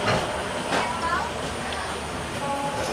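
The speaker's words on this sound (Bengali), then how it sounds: "আস্তে আস্তে ট্রেনটা ছেড়ে দিল" Steady low rumble of the Sealdah–Puri Duronto Express moving, with faint rattling and clatter throughout, fairly quiet and even, no clear voices.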